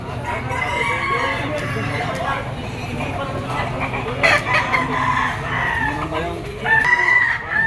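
Stag gamecocks and other chickens at a poultry market in Padre Garcia, Batangas crow and cluck repeatedly in a busy, close setting, with people talking throughout.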